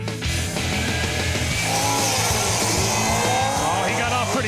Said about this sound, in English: Oh, he got off pretty good there, Ken. That thing's running pretty good